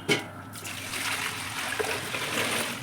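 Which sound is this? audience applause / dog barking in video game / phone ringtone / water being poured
water being poured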